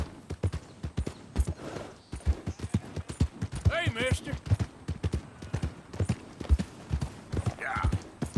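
Horse hooves clip-clop steadily in the Red Dead Redemption 2 video game, a close, rhythmic series of hoof strikes under a voice, with a brief horse whinny in the middle.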